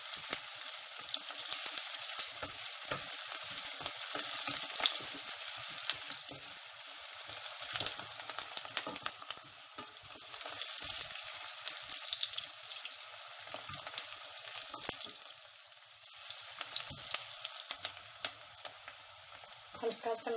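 Steady sizzling of onions and garlic browning in a pan for Punjabi-style chicken shorba, a continuous crackle with occasional stirring scrapes, fairly quiet and close.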